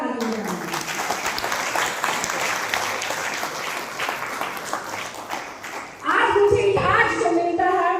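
An audience bursts into loud, sustained applause, dense clapping rolling on for several seconds before a voice begins speaking over the tail end.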